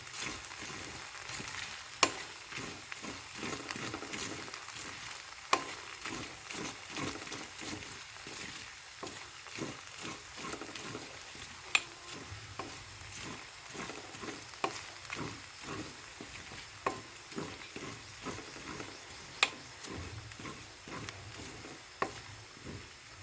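Coconut oil sizzles and crackles as it cooks in a pan, with a steady frying hiss broken by frequent small pops and occasional sharper spatters, close and continuous.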